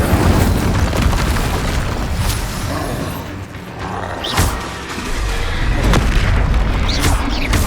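Explosive spell effects go off in the video game Hogwarts Legacy, loud booming bursts over a rumbling combat soundscape, with a few sharp cracks spaced through the fight.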